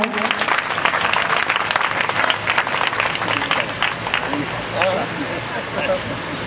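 Guests at an opening ceremony clap in steady, full applause throughout, with voices murmuring and calling out underneath.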